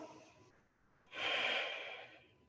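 Deep breathing during a yoga flow: a soft breath, a pause, then one long, fairly close airy exhale lasting about a second, with no talking.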